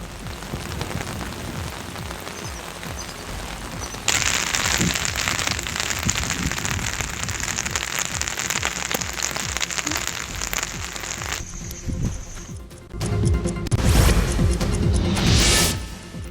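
Heavy rain driven by strong gusting wind in a district where banana crops were flattened, a loud dense roar throughout that swells and intensifies partway, with rough buffeting bursts near the end and no voices.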